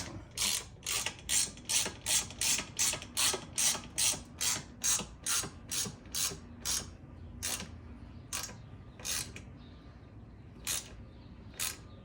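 A ratchet tightens the nerf bar bolts on a second-generation Suzuki LTZ 400 ATV. Roughly twenty crisp, rhythmic clicking strokes come quickly at first, then slow and spread out into separate clicks, close and without talk.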